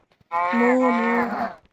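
A single long, drawn-out cow moo, close and clear, rising slightly and then fading after about a second.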